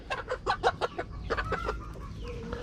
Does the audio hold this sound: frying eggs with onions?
no